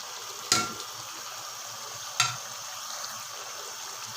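Spices frying with ginger and garlic for chicken shorba, a continuous soft sizzle broken by two sharp stirring scrapes, close, with no voices.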